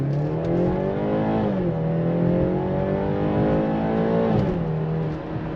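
A BMW engine revs up and holds high RPM in Sport mode, its steady harmonic drone rising and falling twice as the revs climb and settle, loud and close with no talk over it.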